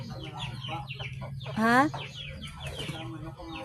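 Chickens cluck close by in a backyard flock, with one loud squawk in the middle, and a person talks briefly over the birds.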